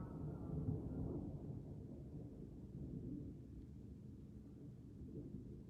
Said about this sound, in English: Do you guys hear that thunder out there?